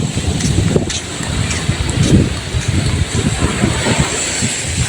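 Strong wind at the beach buffets the microphone in heavy, uneven gusts, a continuous roaring rush with no one speaking.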